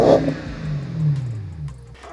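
A BMW 550i with the N62 V8 and a MagnaFlow muffler feeding quad tips revs briefly, giving a short, throaty exhaust rise that then falls away.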